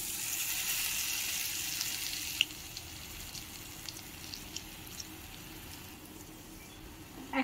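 Egg chops coated in gram flour fry in oil, a soft steady sizzle with faint scattered pops, loudest at the start and settling into a quieter bubbling hiss.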